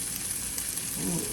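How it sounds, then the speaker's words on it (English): Mushrooms sizzle steadily in a hot pan during a Mother's Day feast, a continuous close frying hiss with a faint low tonal sound rising near the end. "I have patience when I get to listen to the sizzle."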